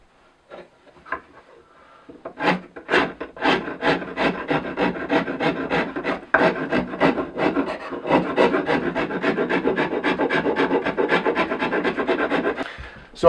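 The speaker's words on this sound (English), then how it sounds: "So we're going to just keep shaving away on the sides here." A rasp or file shaves the sides of the wooden handle of a vintage W&B Co. sledgehammer, in close, steady rhythmic strokes that quicken and run almost continuously after a few hesitant starts.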